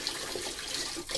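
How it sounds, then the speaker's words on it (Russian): Water runs steadily from a household tap into containers, a continuous close rushing and splashing with no talk over it. "вот мы набираем воду"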